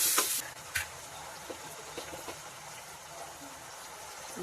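Lemon rice mixture is stirred in a frying pan, with a loud scrape and sizzle at the start, then soft intermittent scraping under a steady low fry.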